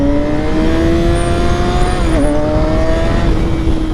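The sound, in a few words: car braking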